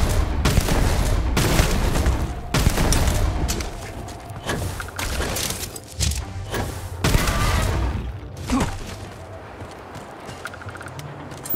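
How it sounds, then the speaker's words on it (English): Shotgun blasts in the Starfield video game, a rapid run of loud booming shots in close succession with thuds, some voice underneath, tapering toward the end. "Shotgun is pretty good."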